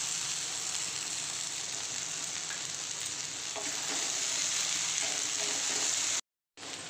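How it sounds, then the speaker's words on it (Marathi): Roasted okra being sautéed with turmeric in a pan sizzles in a steady, loud, broadband hiss that holds almost unbroken, with a few faint stirring touches, before a brief silent gap near the end. "हळद परतून झाल्यावरती आपल्याला ही जी भेंडी आहे भाजलेली ती परतून घ्यायची आहे"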